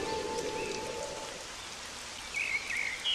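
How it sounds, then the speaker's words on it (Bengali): Steady rain and wind of a sudden storm in an animated village story, a continuous hiss throughout with a short tone early on and brief bird chirps near the end. "এ কি, হঠাৎ এমন ঝড় বৃষ্টি শুরু হলো"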